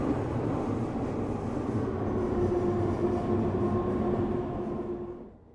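A train in a video game runs steadily, a continuous rumbling rail sound with a low hum that holds level, then fades away at the end.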